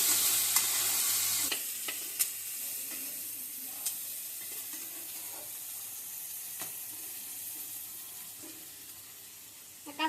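Onions frying for chow mein, stirred in a hot pan: a continuous close sizzle and hiss broken by scraping spatula strokes and occasional clicks, with no voices.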